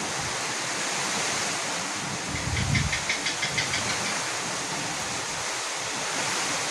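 Heavy, unbroken rain falls over a village as a steady broadband wash, with a brief low rumble and faint rhythmic clatter rising midway before the even downpour resumes.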